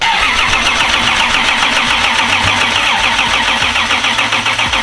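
A Toyota 2JZ engine with its timing off runs steadily and loudly up close, sputtering out small deep pops through the intake in an uneven, chugging rhythm, with no voices.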